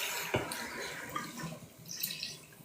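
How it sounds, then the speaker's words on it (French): Hot water poured into a pot of partly cooked rice for riz gras, heard as a soft, continuous watery trickle at low volume with no talking. "Je vais venir mettre de l'eau chaude ici."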